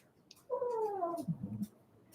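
A dog whines once in the background of a quiet room, a single drawn-out falling cry of about a second that breaks into a few short sobbing notes, faint but distinct.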